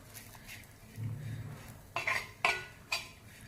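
Roasted coarse peanut powder stirred in a metal pan with a spoon, giving a few sharp scraping clinks near the end after softer rustling, close and moderately loud with no talk.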